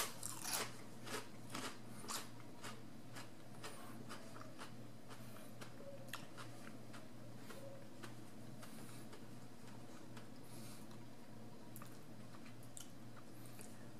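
Lightly salted Pringles chip dipped in extremely hot pepper sauce, bitten and chewed close to the mic: a sharp crunch, then a run of quieter crisp crunches fading into faint chewing.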